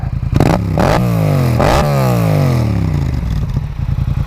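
A 2015 Yamaha FZ-07 (MT-07) with its exhaust baffle partly in revs hard close by, several sharp throttle blips rising and falling over a gritty, rumbling idle with mechanical clatter.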